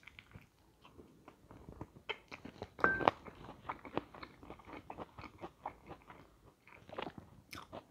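Biting and chewing a KFC burger, chicken wings and legs, and french fries, with soft crunches and wet chews in an irregular run, one louder bite standing out, close and fairly quiet, no talk.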